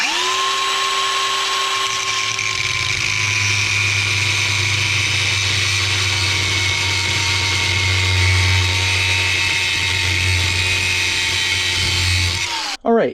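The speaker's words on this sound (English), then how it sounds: "We're gonna have to cut the adapter a little bit because it's too long" Power tool cutting a snowblower shaft adapter to length on a cheap Cub Cadet snowblower, a steady loud whine with a low hum held for about twelve seconds before spinning down.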